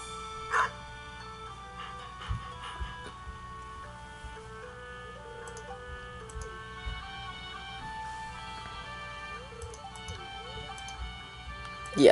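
Dog barking in the farming video game Stardew Valley, a few short yaps at intervals over steady game music and ticking sounds, fairly quiet.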